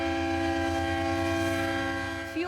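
Train horn blaring a long, steady multi-tone chord from a coal train at a rail crossing, sustained and fairly loud before cutting off near the end.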